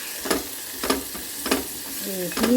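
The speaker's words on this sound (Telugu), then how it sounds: "రాజ్మా ఇట్లా ఫ్రై అవుతుంది" Soaked rajma kidney beans fry in a pan under a constant sizzle. Four or five evenly spaced scrapes of a spatula stir them, with a faint tonal sound near the end.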